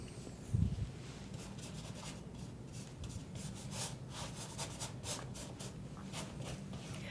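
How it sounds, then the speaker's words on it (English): A paintbrush drags over textured canvas, a faint, dry scratchy rubbing close up, repeating in short strokes with a soft bump at the start and no talk. "Your brush is not going to last forever because it's rubbing against this textured canvas"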